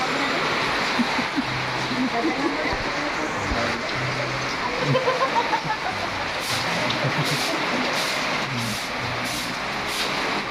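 Heavy rain falls as a steady, dense roar that fills the whole clip, with faint voices and occasional clatter underneath.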